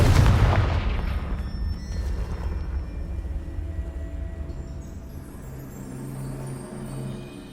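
A Confringo blasting spell explodes in the Hogwarts Legacy video game: a single deep boom at the start fades into a long rumbling decay with scattered debris-like crackles.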